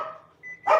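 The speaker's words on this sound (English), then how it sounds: "dogs, can you not?" Dogs bark in a home kitchen during cooking, a short close yip at the end after a brief whimpering tone, with no talk in between.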